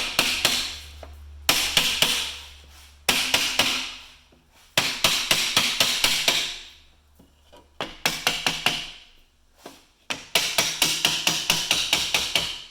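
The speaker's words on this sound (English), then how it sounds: "I'm just going to start at one end and tap on it." Repeated sharp taps of a small hammer on a wood block during GMC Motorhome window disassembly, coming in rhythmic bursts of several strikes separated by short pauses, close and crisp.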